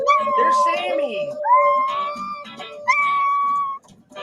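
A puppy howls in long, drawn-out wavering notes, singing in several rising cries close to the microphone, with people talking over and around it.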